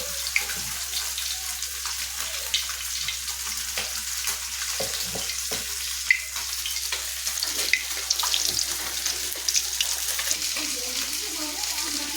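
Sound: gram-flour-coated bread pakora frying in hot oil

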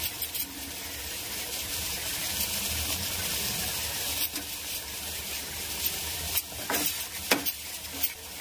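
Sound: masala frying in a pan after adding salt

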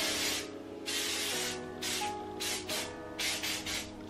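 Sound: hairspray being sprayed, Ion Volumizing Freezing Spray

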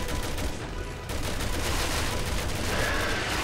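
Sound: rifle and shotgun gunfire in video game Resident Evil 6

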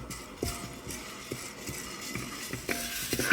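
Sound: chana dal roasting and stirring in a pan

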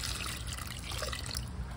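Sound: water being poured onto a potted plant

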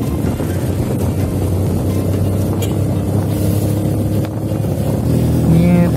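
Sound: motorcycle riding

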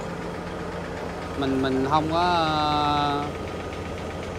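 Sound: Cummins N14 diesel engine running on Phú Yên trawler

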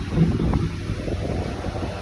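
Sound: wind blowing

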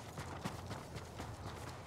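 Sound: horse hooves from the video game Ghost of Tsushima

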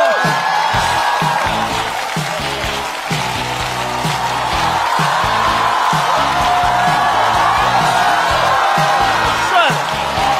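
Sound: audience applause and cheering for comedian

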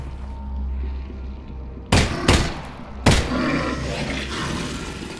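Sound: gunshots in Half-Life: Alyx video game

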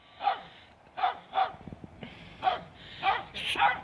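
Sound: dogs barking

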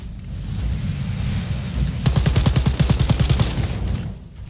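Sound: gunfire in the video game Wolfenstein: Youngblood

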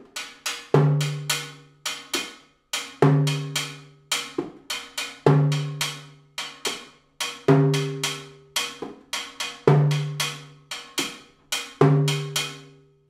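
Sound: timbales pattern, son montuno

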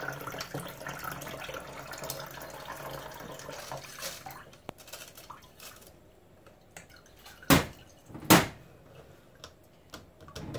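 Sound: rice water poured through a sieve into a container

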